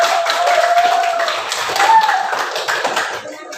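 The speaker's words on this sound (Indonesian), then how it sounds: "tepuk tangan buat kelompok" Classroom students clap for a student group that has just presented, a moderately loud burst of hand claps that carries on for a few seconds, then fades and thins out near the end.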